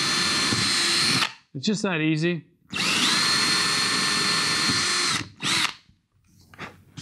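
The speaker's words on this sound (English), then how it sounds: "I'll go ahead and drill to show you how easy it is once I found center." An electric drill bores a hole while installing a Big Air Fusion wakeboard tower, with long steady whining runs broken by short pauses and a brief burst. Someone speaks briefly between the runs.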